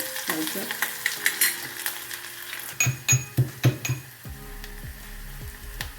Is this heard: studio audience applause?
no